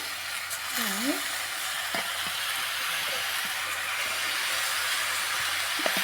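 Jaggery goes into a pan of frying jujube (kul) pickle in a little oil, producing a continuous broad sizzle with a few faint knocks and a brief squeaky chirp near the start.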